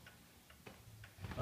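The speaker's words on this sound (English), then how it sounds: "large Black Forest cuckoo clock with a fantastic motif" A large, heavily carved Black Forest shelf cuckoo clock with an 8-day fusee movement ticks quietly and steadily, with evenly spaced soft ticks over a faint background hiss.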